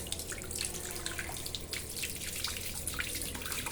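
Steady rush of water pouring from a tap into a hotel bathroom sink in Baguio City, continuous and fairly close, with faint splashing throughout and no talking.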